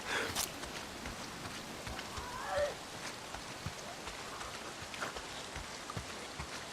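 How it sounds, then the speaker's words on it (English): Steady rain patters and hisses in the Days Gone video game world, a continuous wet wash with scattered drip clicks and a few louder splashes, heard fairly faint and close. "Oh, goddamn rain. If it's not the freaks, it's the goddamn rain."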